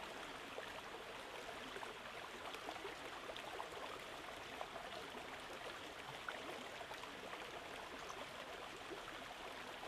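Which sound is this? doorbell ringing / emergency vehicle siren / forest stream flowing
forest stream flowing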